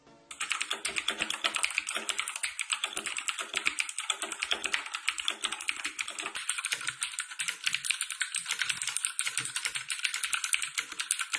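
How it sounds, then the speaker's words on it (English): Fast, continuous typing on a Razer BlackWidow Chroma V2 mechanical keyboard with Razer Green switches, crisp, clicky keystrokes rattling steadily and close for several seconds, no voices. "Quick typing test so you can hear how the green compare to the Cherry MX Blue switches"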